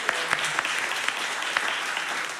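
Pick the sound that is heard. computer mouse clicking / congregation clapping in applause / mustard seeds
congregation clapping in applause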